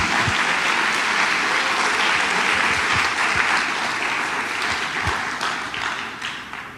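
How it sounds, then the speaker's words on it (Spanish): Loud, sustained applause from a church conference audience fills the whole stretch, dense and continuous, easing off slightly toward the end. "Si vas a aplaudir, aplaude fuerte."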